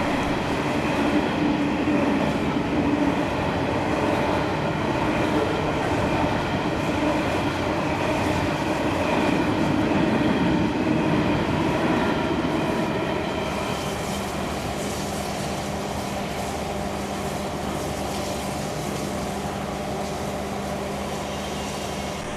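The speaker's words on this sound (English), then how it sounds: "an empty freighter is seen passing through, hauled by two 81 class diesel locomotives from Pacific National" An empty freight train hauled by two Pacific National 81 class diesel locomotives passes in New South Wales: a loud, continuous diesel drone and rumble with rolling wagon noise that eases slightly as it goes by.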